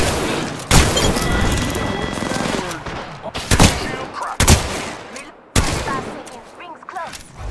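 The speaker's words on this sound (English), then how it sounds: "Shots fired." Bursts of gunfire in the video game Apex Legends, loud close shots and rapid volleys broken by brief pauses, with heavy booming impacts among them.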